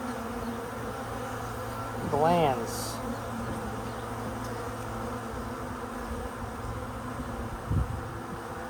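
Honeybees buzz steadily around a newly set-up hive being fed sugar water, a close continuous hum with a short louder swell midway, and a voice speaks briefly over it.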